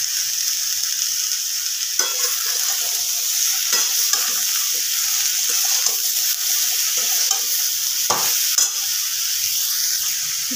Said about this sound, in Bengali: ভালো করে এই মশলাটা সবজির সাথে ভেজে নেব।